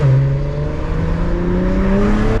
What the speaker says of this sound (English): this car burbles now